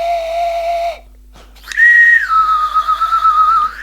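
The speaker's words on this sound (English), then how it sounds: "It's not a very good slide whistle, that, is it?" A cheap slide whistle blown in short phrases: an airy steady tone, a pause, then a higher pitch that slides down and wavers unevenly, breathy and limited in range, loud and close with no talk.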